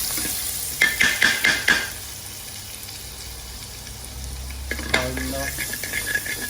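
Garlic frying in oil for chicken jalfrezi, a steady close sizzle broken by bursts of quick scraping stirs at the start and again near the end.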